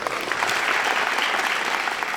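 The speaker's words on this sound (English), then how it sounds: "Can we give those stories a round of applause?" A TV studio audience gives a loud, dense round of applause, a continuous wash of clapping that holds steady from start to finish.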